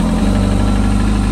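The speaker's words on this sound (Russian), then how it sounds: "Завелся мотоцикл с полоборота" A Kawasaki ZX-14R motorcycle engine, started cold, settles into a steady idle: a loud, close, even low rumble with a faint rhythmic pulse, no talking.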